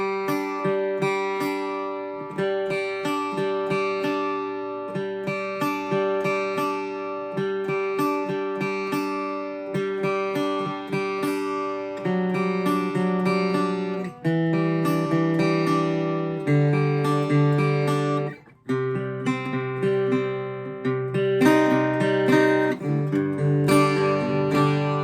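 Guitar plays a song, steady strummed chords running continuously at an even tempo, close and clear with no talking, one brief dip near the end.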